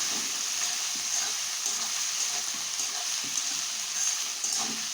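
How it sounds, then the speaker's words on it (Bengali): A whole onion with four cuts frying in hot oil with garlic and ginger, a steady close sizzle and crackle running throughout with faint stirring movement. "একটা গোটা পেঁয়াজও নিয়েছি, 4টে কাট লাগিয়ে নিয়েছি, যে সাথে আমি পেঁয়াজটাও দিয়ে দিচ্ছি।"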